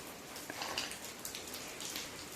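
Monsoon rain falls steadily overnight in a rural farming area, a soft, even hiss of drops with occasional faint patters and no voices.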